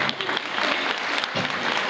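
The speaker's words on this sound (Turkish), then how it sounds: "O yüzden ben hepinizden Hatice yengemize de bir alkış rica ediyorum" An audience at an art-gala evening claps in a dense, sustained burst of applause, close and even throughout, with no talk over it.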